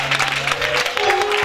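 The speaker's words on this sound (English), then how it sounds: "Give the Lord a hand clap for him." A church congregation claps for a visiting apostle, a brief burst of brisk hand clapping with a sustained tone running beneath it.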